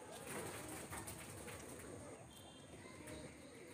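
Pigeons coo on a building rooftop, a soft continuous burbling close by over a steady background hum, with no talking.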